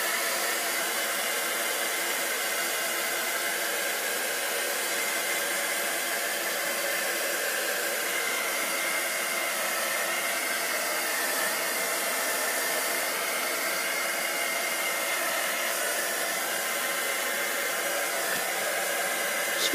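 A heat tool blows steadily and loudly for the whole stretch, a continuous broadband whoosh drying watercolour-painted card for a Stampin'Up! craft, with no voices.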